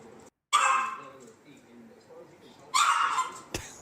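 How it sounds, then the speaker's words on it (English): A dog gives two loud, odd-sounding barks a couple of seconds apart, with quiet talk and room noise between them. "I've never heard a dog bark like that before."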